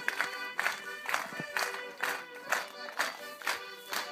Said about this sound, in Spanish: Fuertes esos aplausos